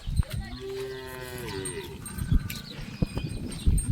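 Cows low loudly from close by inside a shed, giving one long drawn-out moo, and muffled bumps and shuffling sounds follow it.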